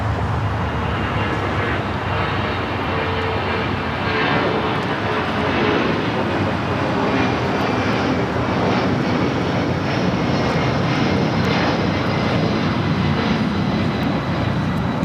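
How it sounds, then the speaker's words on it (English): A Delta Boeing 757-200 takes off at LAX bound for Los Cabos, a powerful continuous jet roar with rumbling low end and hiss, steady and loud for the whole stretch without speech. "This is Delta Airlines 1884 taking off to Los Cabos on the 757-200"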